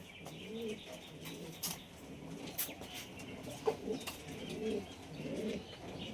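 Several pigeons imported from Bangladesh, high-flying birds, coo softly in scattered low bursts at moderate distance, with occasional brief chirps and faint background noise between calls.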